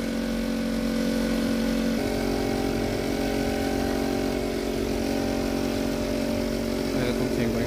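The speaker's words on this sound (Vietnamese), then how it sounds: "bàn giao máy phun giữa Lan Cô Pro loại bánh lốp" A Lan Cô Pro wheeled spray machine runs its engine close by with a steady, loud drone, its pitch shifting slightly about two seconds in.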